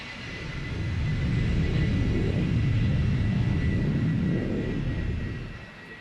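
An AI aircraft in a flight simulator game rolls along the runway with a steady engine roar and rumble. It swells over the first second, holds, then fades toward the end, with no talk.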